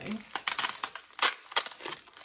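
Plastic tape being handled and peeled off a box of mixed plant cuttings, heard as close, irregular crinkling and tearing bursts over a couple of seconds.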